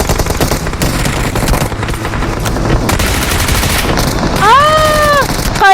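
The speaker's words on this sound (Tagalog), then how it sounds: "Kuya Hari, pinaulan na ng bala ng Team 2 natin" Rapid bursts of automatic gunfire in a PUBG match fill the scene with dense, loud clatter, followed near the end by a few rising-and-falling electronic tones.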